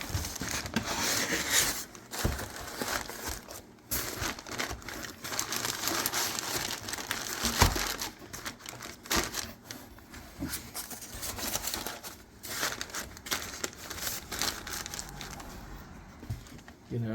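A cardboard shipping box being cut down to size with a knife, giving irregular crinkling, scraping and crunching bursts at close range that come and go over several seconds.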